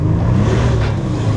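A slammed, cheap turbo V12 Mercedes rolls along under a loud, steady low engine drone that stays even and close throughout, with no talking over it.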